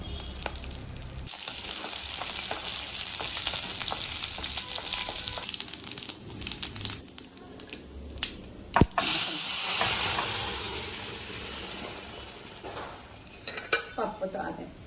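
Garlic, curry leaves and asafoetida frying in a tempering, a steady hissing sizzle with scattered clinks and scrapes of a pan and spoon, easing off midway before the sizzle swells again, and a short burst of clatter near the end.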